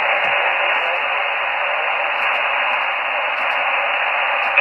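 Static from an ICOM IC-R75 communications receiver with its noise blanker on: a constant, loud band-limited hiss with faint crackles, steady throughout.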